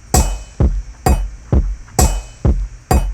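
Snare layered with a reverby hit and a kick drum, produced in Ableton, pounds out a steady beat of seven punchy hits with deep low thumps and bright, washy tails, loud and close with no talking.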